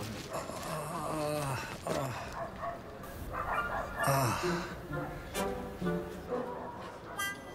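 Dogs barking in a comedy film scene from an Egyptian movie, repeated barks and yips mixed under music and a man's speech throughout.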